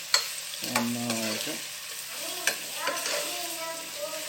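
Onions are sautéed in oil in a pot for Thalassery-style chicken dum biryani, with a low sizzle under several sharp spoon knocks and scrapes, plus a brief tonal squeak-like clatter early on.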